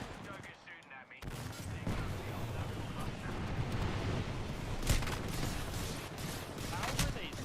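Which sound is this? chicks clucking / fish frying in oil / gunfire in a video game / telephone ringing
gunfire in a video game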